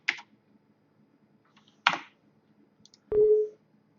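A few isolated key clicks from a computer keyboard, three short separate taps spread across a few seconds in a quiet room, the last one slightly longer and heavier.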